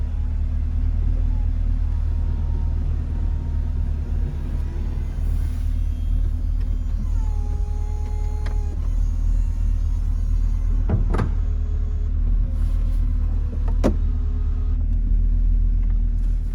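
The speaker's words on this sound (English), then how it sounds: "we'll go ahead and we'll put the top up" A 2017 Chevrolet Camaro 2SS convertible raises its power top while parked, a low steady motor hum over cabin rumble with a few faint whirs and a couple of sharp clicks or latch thumps near the end.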